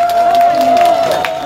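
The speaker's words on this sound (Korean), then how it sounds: "우리 어머님께 박수 한번 쳐주세요." Crowd at a live outdoor performance at a textile festival clapping and cheering briefly, a short burst of applause mixed with a sustained musical tone and a voice.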